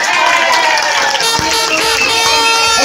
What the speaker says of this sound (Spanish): un aplauso para Fabio